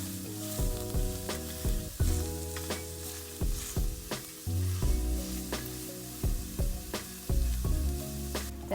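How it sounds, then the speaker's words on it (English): Ground meat sears and sizzles in a hot pan for a keto meat pie, a continuous crackling fry with periodic louder pops, heard up close with no talking. "I don't stir it at this stage because I want to sear the meat and let it caramelize a bit."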